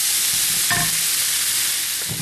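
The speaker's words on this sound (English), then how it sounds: "I'm just going to continue to keep squashing this and mixing the carrot in" A spoon squashes tomatoes and works carrot into a simmering chili sauce, a steady hissing sizzle with a brief clink and soft scraping and mashing sounds near the start and end.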